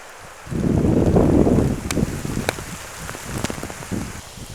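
Heavy rain pours down on a garden of daylily beds in August, a dense loud wash of drops starting abruptly and holding steady, with gusts of wind buffeting close around.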